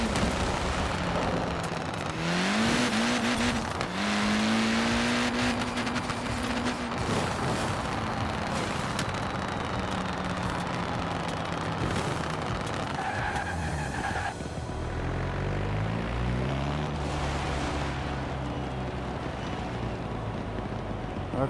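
Forza Horizon 4 car engine revving in rising and falling pitch sweeps, with repeated tire skids and squeals throughout, loud and continuous, with no talking.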